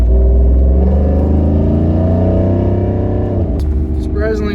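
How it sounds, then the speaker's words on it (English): A Ford truck drives along with a steady, loud engine hum and road rumble throughout, shifting slightly near the end, with no clear talk over it. "I'm excited to drive my truck for the first time in like a week."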